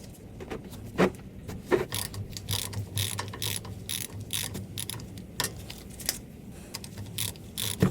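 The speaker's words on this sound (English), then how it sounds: "So we're gonna go ahead and loosen these up and get it draining." Fill and drain plugs being loosened on the differential of a 2020 Ram 1500, heard as repeated close ratchet clicks in short bursts with a few sharper knocks, no talking.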